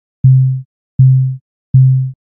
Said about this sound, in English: I've got this sine wave with a decay on track 1